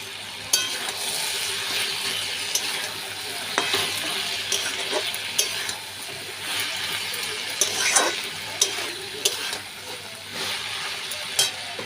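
Greens sizzle and fry in a pan after fish oil is added, with a spoon scraping and stirring in uneven strokes and sharp clinks over a continuous crackling hiss, close and fairly loud.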